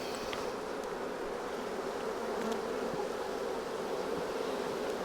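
Honey bees buzz around an open hive during a colony split, a steady, dense swarm hum that holds loud and close throughout, with no voices.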